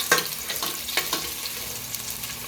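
Chicken afritada ingredients sautéing in a pan, a soft crackling sizzle with a few sharper spatters and stirring scrapes, steady and close without any talk.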